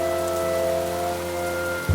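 Steady rain pouring on a stormy night in a horror scene, a constant hiss under a sustained eerie musical drone, ending with a low thud.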